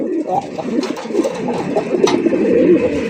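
Fancy male pigeon cooing at a farm loft, a run of low, soft burbling coos repeated steadily and close up, with a faint voice briefly in the background.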